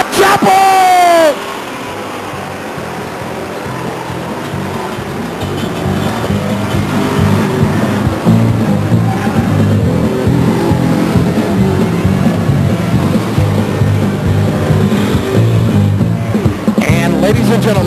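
Street stock race cars roar around the Stockton 99 Speedway oval in a steady, loud engine drone, with a track announcer's voice booming over the racing throughout.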